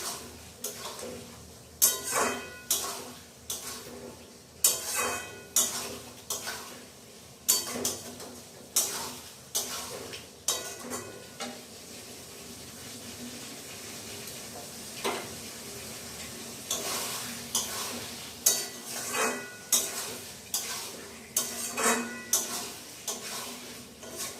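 Egg and potato fry with spice masala in a pan, a low sizzle punctuated by rhythmic, repeated spatula scrapes and knocks against the pan, pausing briefly midway before the regular stirring strokes resume.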